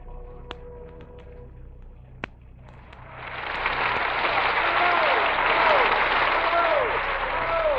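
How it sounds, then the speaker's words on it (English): A hall audience in a radio drama breaks into swelling applause with bravo shouts, rising after a few quiet seconds of faint clicks into a loud sustained roar of clapping. "The hall rings with applause and bravos"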